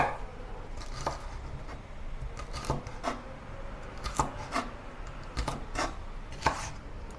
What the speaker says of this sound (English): Meanwhile, cut a carrot into small dice.